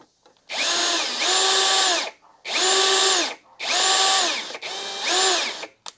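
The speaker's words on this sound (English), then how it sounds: "It helps if you're screwing it in rather than unscrewing it." A power drill driving screws into a Gorilla GG 25 guitar amplifier whines in four separate bursts, each rising and winding down, close and loud with short pauses between.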